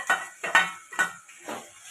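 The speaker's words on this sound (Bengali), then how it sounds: "এটা ভালো করে কষিয়ে নেব।" Potato and pointed gourd being stir-fried with ginger, green chili and cumin paste: four quick metallic spatula scrapes and clinks against the pan in a loose rhythm, close and moderately loud.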